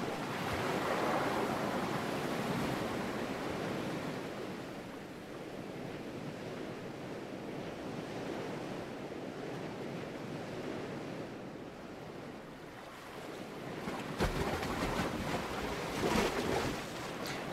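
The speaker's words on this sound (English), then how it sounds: "your sailboat's going up and down, and you can see the island, you know, in between the waves" Ocean waves wash steadily around a sailboat out at sea in the open-world survival game Salt, a constant surf roar mixed with wind noise, with no voices.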